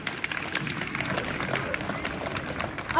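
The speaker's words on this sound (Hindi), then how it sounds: "जोरदार तालियां बजाओ" Sustained applause from an audience at a school annual result ceremony, dense steady clapping throughout with crowd noise and voices mixed in.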